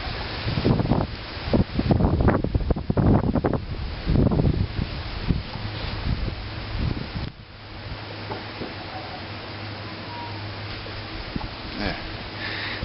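Strong, gusting wind blows outdoors in the wilderness, buffeting the microphone with loud broadband rumble for the first seven seconds, then easing to a steadier, lower roar with a faint hum beneath.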